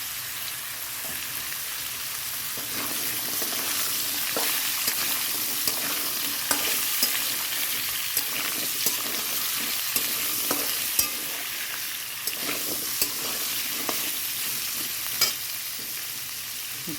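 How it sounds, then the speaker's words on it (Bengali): Potatoes fry in hot oil with nigella seeds and chilli, giving a steady, dense sizzle with occasional crackles and stirring scrapes, close and continuous with no talking. "তেলটা দিয়ে কালো জিরে দিয়ে দিচ্ছি আর এবার দেখো এখানটা আমি দিয়ে দিচ্ছি আলুটা দিয়ে দিচ্ছি"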